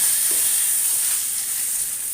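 Fish fry in a pan with a steady, loud, even sizzle and hiss that carries without pause from start to finish, with no voices over it.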